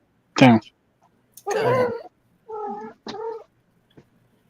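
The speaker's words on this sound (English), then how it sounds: "No, that was my cat." An indoor pet cat lets out several short, loud meows and yowls in separate bursts close by, with a brief spoken word between them.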